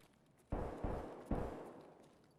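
Three gunshots ring out in Escape from Tarkov, each a faint, distant, booming report with a trailing echo, spaced unevenly within a couple of seconds.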